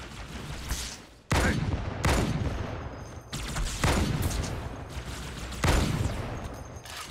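Gunfire in the video game Halo 2, several loud blasts in irregular succession, each followed by a sustained noisy rumble of battle, with no talk.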